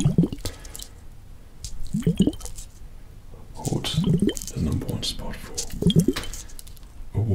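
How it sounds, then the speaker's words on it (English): Close-miked ASMR water sounds: irregular drips, wet squishes and light clinks come in soft bursts. The sounds are intimate and quiet, with a gentle, uneven rhythm. "water sound to trigger to, which hopefully you are getting plenty of at the moment."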